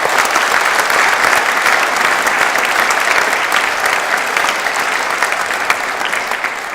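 An audience at a social value summit awards event applauds loudly and continuously, a dense wash of many hands clapping that holds steady for nearly seven seconds.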